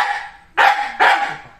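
A dog barks twice in quick succession at close range, two loud sharp barks about half a second apart, in a home where a kitten is being handed over.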